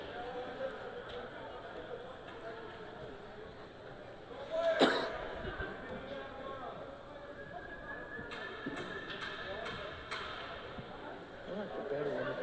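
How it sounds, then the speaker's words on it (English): A single sharp cough bursts out midway through a stretch of low background chatter and room noise. "I gotta cough way too much for this."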